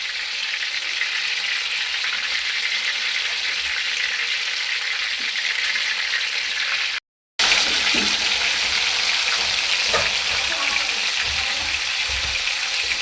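Chicken and egg kofta fry in hot ghee with a loud, steady, hissing sizzle that fills the whole stretch, broken by a brief silent gap midway, then resuming with faint stirring knocks and no talk.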